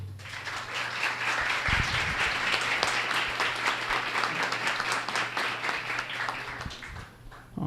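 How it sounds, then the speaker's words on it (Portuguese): An auditorium audience at a seminar on dictatorship and culture applauds a speaker, steady many-handed clapping over a low hum, fairly soft and continuous across the whole stretch. "Uma salva de palmas para ele"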